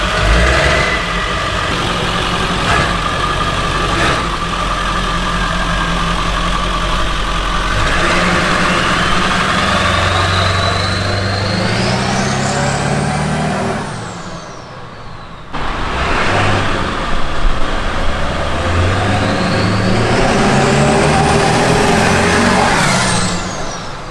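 A truck with its exhaust cut off runs loud and close, idling roughly then revving in rising surges. It drops briefly partway through before roaring up again as it pulls away.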